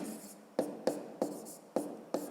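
A pen moves across paper in writing out a math sum, giving five short, crisp scratching strokes at an even rhythm, each one close and quiet in an otherwise still room.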